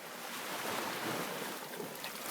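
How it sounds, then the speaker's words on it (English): Ocean waves wash onto a beach in a broad, steady hiss of surf, moderately faint and continuous, with some wind noise and no voices. "those are only waves!"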